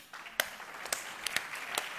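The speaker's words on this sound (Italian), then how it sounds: "Un applauso ai Re Maghi!" A few scattered claps for a magic show act, faint and sparse, spaced irregularly over a soft background hiss.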